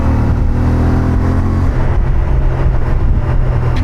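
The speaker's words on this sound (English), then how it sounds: "the exhaust note. It sounds absolutely beautiful." The CF Moto 450MT's 449.5 cc parallel-twin engine, with a 270-degree crank for a V-twin-like beat, sends out a loud, continuous, throbbing low exhaust note that stays close and steady. No one speaks.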